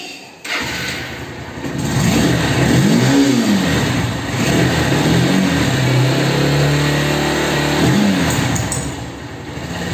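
A Honda Hornet 160R Special Edition motorcycle engine fires up, then revs up and down in repeated swells over a steady running drone, close and loud.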